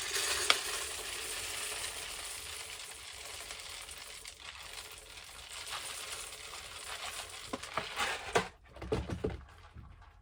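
A Vitamix blender runs at a steady, loud, even whir while blending pumpkin seed cheese, then cuts off into a few short clunks and knocks near the end.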